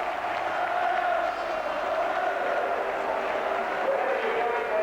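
Football crowd at the Charlton v Leeds 1987 play-off final, a steady wash of distant applause and crowd noise filling the stadium, with a commentator's voice faintly underneath.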